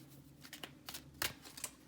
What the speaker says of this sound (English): I am going to go ahead and shuffle right now